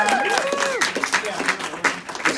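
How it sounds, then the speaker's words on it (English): Audience applause at an event for a public-private pilot program in Boston, with clapping mixed with a whoop and voices over it, fairly loud and close. "let's give a round of applause for all the"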